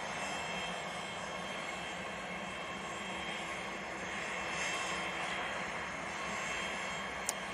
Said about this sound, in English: let's throw it down to the Ryanair now departing